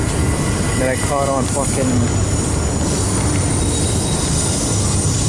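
A freight train passes close by, with a constant heavy rumble of wheels on rail, brief squeals and a horn-like tone early on, while someone talks over it.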